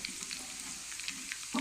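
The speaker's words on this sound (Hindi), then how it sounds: "तो ऑयल में मैंने लहसुन डाल दिया, ज़ीरा और ये डाल दिया जी पीली राई" Garlic, cumin and yellow mustard seeds sizzle steadily in hot oil for a tadka, with a continuous crackling hiss and a few sharper pops near the end, close by and fairly quiet.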